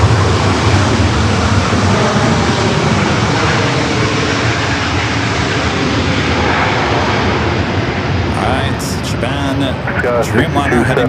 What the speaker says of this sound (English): Dreamliner heading back to Tokyo Narita, certainly looking like it's going to stay here on the north side.